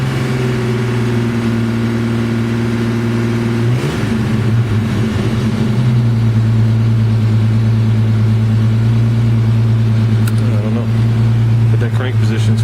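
A Jeep engine runs loud and close, idling steadily and then suddenly surging to a higher, racing speed that holds, with a steady drone throughout.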